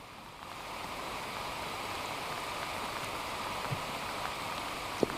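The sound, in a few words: heavy rain falling on flooded village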